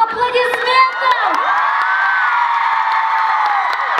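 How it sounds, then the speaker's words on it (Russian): A large crowd at a K-pop concert in Almaty, Kazakhstan cheers, whoops and applauds loudly in a sustained roar, with high shrill shouts rising above it. "Тогда просим ваших бурных аплодисментов!"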